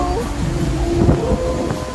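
Strong gusting wind buffets the microphone on a boat at sea during a soca cruise, a dense low roar with faint voices and sounds barely audible beneath it.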